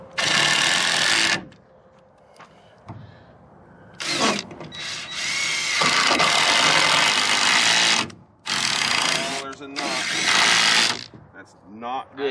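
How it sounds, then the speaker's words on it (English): Power drill pre-drilling screw holes in the ends of wood boards for an A-frame goat playhouse build, several loud, sustained high-pitched whirring bursts of a few seconds each separated by brief pauses, close by. "I like pre-drilling the ends because they could split"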